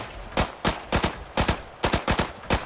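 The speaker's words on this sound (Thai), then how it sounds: "ชอบเสียงปืนนี้ว่ะ" Rapid bursts of assault rifle fire in the shooter game Arena Breakout, about a dozen sharp shots in short clustered volleys, loud and close with brief gaps between bursts.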